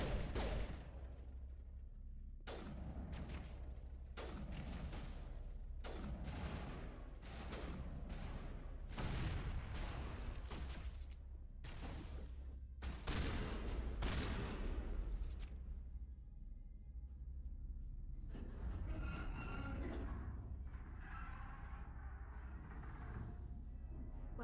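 Gunfire in Mass Effect: repeated loud bursts of shots in clusters through the first fifteen seconds, followed by a quieter stretch of ambient game tones, with no talking.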